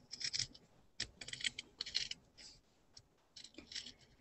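Scissors cutting a fabric circle, a close, quiet series of short crisp snips and scratchy cuts in uneven bursts with brief pauses between, no talking.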